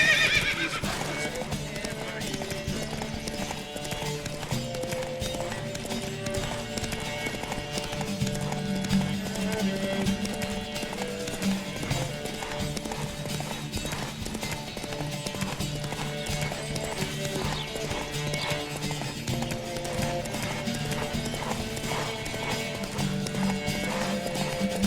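Horse galloping in The Witcher 3 during a race, rapid clip-clop hoofbeats with occasional whinnies running continuously under a steady musical score.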